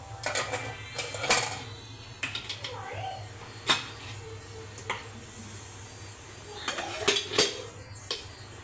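A metal cake tin clanks and knocks against a pressure cooker and a rack inside it in several sharp, close clatters, with scattered quieter scrapes between them and someone talking softly.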